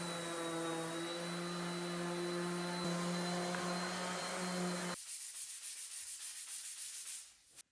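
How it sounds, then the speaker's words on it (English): A powered sander whirs on wooden lamp legs with a steady hum and harmonic whine for several seconds, then switches to a rougher, pulsing scraping before winding down. "give them a good sanding"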